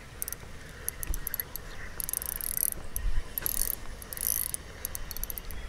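A fishing reel's drag clicks in rapid bursts while a crucian carp is reeled in, and the line is let out in quick ratcheting runs over a low rumble outdoors.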